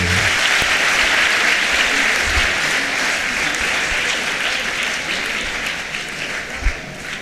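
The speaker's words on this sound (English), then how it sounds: "Are you going to clap for him?" Crowd at a girls' quiz competition event applauds a visiting deputy education minister, a loud dense wash of clapping that gradually fades over several seconds.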